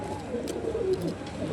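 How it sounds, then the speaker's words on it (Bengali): An old pair of native desi pigeons coo close by, a soft low warbling coo rising and falling once across the moment, with faint background rustle and no speech. "এই যে একটা জোড়া পুরাতন দেশি কবুতর"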